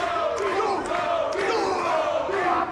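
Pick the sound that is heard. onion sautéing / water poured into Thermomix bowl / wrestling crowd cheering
wrestling crowd cheering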